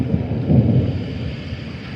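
A brief, low rumble of thunder swells and fades, deep and diffuse, in a couple of seconds with no voices.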